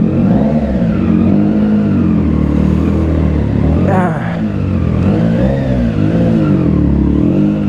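A Triumph Trident 660 motorcycle pulls away and revs on a dual sport tire, its loud engine note rising and falling in steady waves up close, with voices talking over it.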